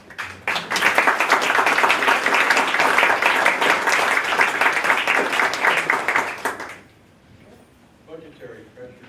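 Audience at an art and science café event applauding the artists, dense clapping that starts sharply, holds steady for about six seconds, then stops abruptly, followed by quiet talk.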